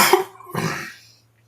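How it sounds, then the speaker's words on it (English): A couple of harsh, abrupt coughs with a gulping hiccup-like catch in between, close and fairly loud, then the sound fades out. "Coughing and hiccuping at the same time."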